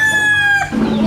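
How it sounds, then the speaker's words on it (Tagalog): Roosters and chickens in a backyard coop, one loud, close crow with a clear rising-then-falling call, followed by clucking from other birds. "meron pa akong mga alagang mga manok"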